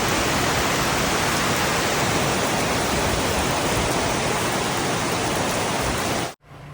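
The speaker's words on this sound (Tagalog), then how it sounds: "Ulan." Steady, dense rain hiss fills the scene evenly and loudly, with no voices, before cutting off abruptly near the end.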